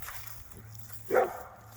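A dog lets out a single short bark partway through, near and fairly loud, over a quiet low hum outdoors around a parked motorcycle.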